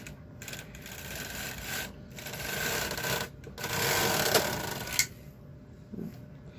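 An SK560 knitting machine with ribber attached, switched off and pushed by hand across the beds, gives a long rasping carriage slide with rattling needles, building in loudness before a sharp clack and a quieter tail.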